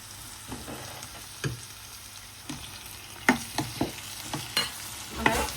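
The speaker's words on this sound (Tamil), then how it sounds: "அதையும் கொஞ்சம் வதங்கி இப்படி வதக்கல" Tomatoes being sautéed in a pan for poori masala give a soft, steady sizzle broken by scattered scraping stirs of a utensil, growing louder and more frequent toward the end, with no voices.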